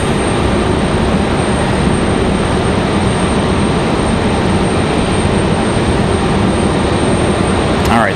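An Air France airliner's APU runs at Raleigh-Durham International, a loud, steady broadband roar with a high constant whine, continuous and unbroken throughout.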